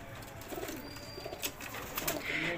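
Pigeons in a loft coo softly and intermittently at a distance, with faint flutters and a few sharp knocks amid low background noise.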